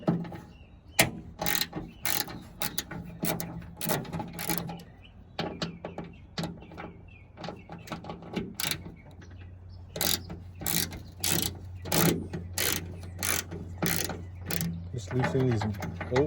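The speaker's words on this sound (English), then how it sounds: "Just loosen these bolts." A ratchet loosens bolts on the rear trunk of a 2006–2011 Honda Civic, fast repeated clicking in bursts, close and clear, with someone talking now and then between the strokes.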